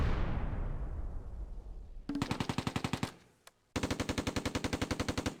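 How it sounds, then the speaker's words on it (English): Machine gun in the WWII strategy game Close Combat: A Bridge Too Far fires two rapid, evenly paced bursts of sharp shots, separated by a short pause. A fading rumble comes before the first burst. "German infantry unmask and my machine gun opens up"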